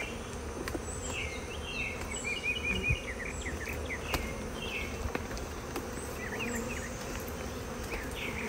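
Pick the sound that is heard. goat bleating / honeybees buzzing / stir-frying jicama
honeybees buzzing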